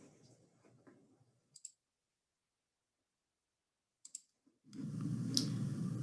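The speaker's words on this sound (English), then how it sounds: "instead of clicking and making the slide advance" Two pairs of quick mouse clicks during a lecture presentation, crisp and close in near silence, followed by a burst of loud background noise.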